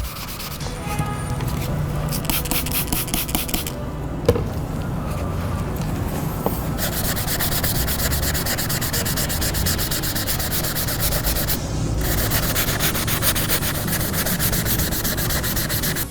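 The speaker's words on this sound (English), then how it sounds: "now I've finished sanding down with the 2500 grit sandpaper" Continuous steady rubbing and rasping as 2500 grit sandpaper works over a plastic brake light from an SN95 Mustang, close and loud with no speech, fading briefly in a couple of short pauses.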